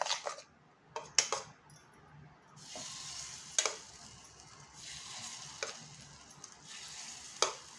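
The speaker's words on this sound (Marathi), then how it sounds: "नेहमी अप्पे टाकताना ना असं व्यवस्थित ढवळून घ्यायचं" Suji appe batter stirred in a bowl with a spoon, making a quiet scraping and tapping with sharp clinks at irregular intervals against a soft background.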